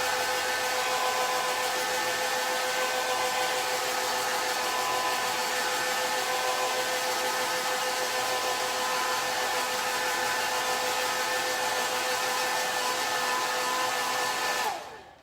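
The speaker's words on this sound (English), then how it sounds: "I'm going to hit this with the blow dryer" A blow dryer whirs loudly and continuously at close range with a steady high whine, then cuts off abruptly at the end.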